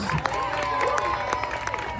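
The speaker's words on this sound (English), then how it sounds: "How about a round of applause for the staff and teachers here?" A school crowd applauds staff and teachers at a Make-A-Wish event attended by police and fire first responders, with clapping and cheering blended into loud, steady crowd chatter for two seconds.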